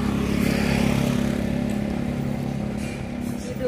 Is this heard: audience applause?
no